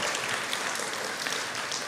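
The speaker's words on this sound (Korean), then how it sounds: "우리 같이 또 응원의 박수 좀 했으면 좋겠습니다" Church congregation at a young adults' Sunday worship service clapping in support of the worship team, a steady even wash of applause, fairly soft and distant.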